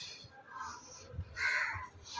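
Crows cawing outdoors near a residential building, several harsh caws in a loose irregular sequence at moderate distance, with faint background noise.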